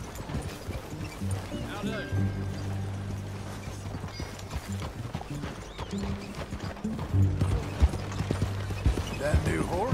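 Shire horse hooves clip-clopping at a steady ride in the Red Dead Redemption 2 video game, rhythmic and fairly close, with game speech running over them.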